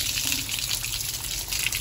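Water gushes steadily, washing soil off the roots of a ten-year-old adenium plant during repotting, a continuous close splashing rush.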